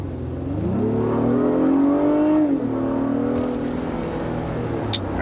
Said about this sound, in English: I can hear it revving really loud, and it's accelerating